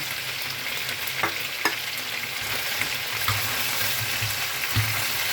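Garlic sautés in a pan for chicken adobo in coconut milk, producing a constant moderate sizzle with soft scraping stirs and a few sharp utensil ticks.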